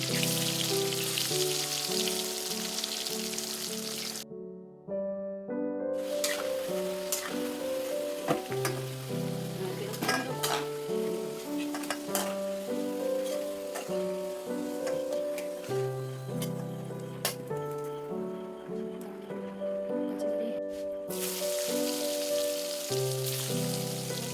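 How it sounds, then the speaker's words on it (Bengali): Cut potatoes frying in very hot oil in a wok, giving a steady loud sizzle and crackle that runs almost without break, close by, with no talking. "এদিকে কড়ার তেল খুব ভালো গরম হয়ে গেছে কেটে রাখা আলুগুলো তেলের মধ্যে দিয়ে দিচ্ছি"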